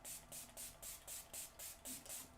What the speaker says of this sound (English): So I got the Elf Power Grip Dewy Setting Spray.